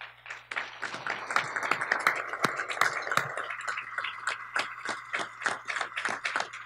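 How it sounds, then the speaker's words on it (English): Audience applause at the close of a talk on addictive technology design, many hands clapping in a dense, steady patter from a medium-sized crowd, sustained and moderately loud. "So let's applaud again, actually."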